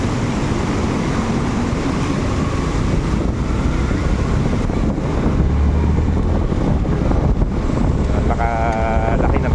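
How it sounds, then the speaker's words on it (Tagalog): A vehicle pushes through deep floodwater on a city street during a heavy typhoon downpour. Loud continuous rushing, splashing water and rain noise fill the whole stretch, with a rumbling engine underneath and wind buffeting the microphone. "talagang tumutulak yung tubig sa gulong dahil sa lalim ng tubig baha"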